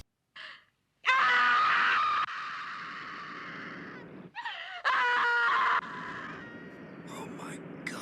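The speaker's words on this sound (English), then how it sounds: "There is some amazing screaming in this film." Shrill screams in a horror zombie movie, several loud bursts separated by short silences, harsh and close, with gasps and moaning between them.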